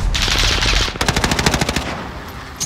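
Rapid automatic fire from an M13 rifle in Call of Duty Modern Warfare: a burst of roughly ten evenly spaced shots follows a loud rushing noise, then fades into quieter game ambience.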